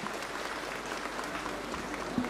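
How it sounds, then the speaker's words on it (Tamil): An audience at a Tamil stage event applauding, a dense, steady wash of clapping from a large crowd at even loudness throughout. "A huge round of applause"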